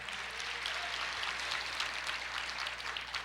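A church congregation applauding in worship, a dense, steady wash of many hands clapping at a distance in a reverberant hall, sustained evenly throughout with no voices standing out.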